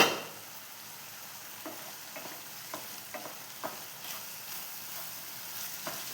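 Tomatoes sautéing in oil in a pan for tomato rice, giving a soft steady sizzle with intermittent scraping stirs, close and fairly quiet.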